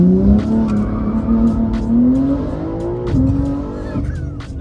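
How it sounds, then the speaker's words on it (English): Toyota Supra launching hard from a second-gear start, its engine note climbing steadily through the revs with loud, close exhaust roar and brief tire chirps, no talking over it. "So that was a second gear launch."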